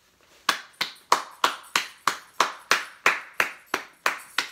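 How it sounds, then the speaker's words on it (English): One person claps alone about a dozen times in a steady rhythm, each clap sharp and close, with a short ring after it and nothing else heard. "Everybody that's watching this video should give you a round of applause right now"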